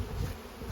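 Honey bees buzz around a hive entrance during a pollen flow, a soft continuous hum lasting under a second at low volume.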